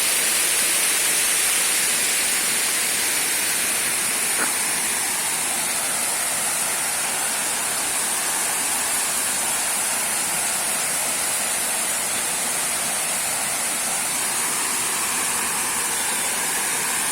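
A small waterfall on a farm in Biquíra, Brazil, gives a steady, dense broadband rush of falling water that stays even and fairly close for the whole stretch, with no voices over it.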